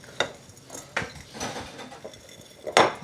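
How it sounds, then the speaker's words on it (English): Chickpeas and spices being tossed together in a bowl, with a few sharp clinks of a utensil against the dish and soft rustling between them, close and alone. "Mix, all those spices together."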